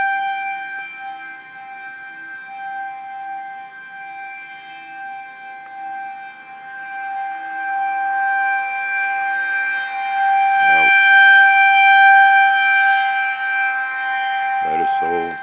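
A loud tornado civil defense siren wails with a steady sustained tone that swells in volume over time during a storm with rising winds; someone speaks briefly partway through.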